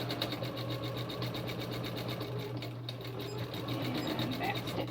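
A sewing machine stitches in a fast, steady mechanical rhythm, fairly quiet and continuous throughout.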